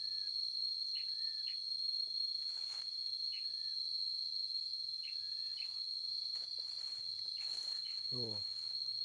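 Cicadas in a farm field make a steady high-pitched drone throughout, while a few short bird chirps come and go in the background.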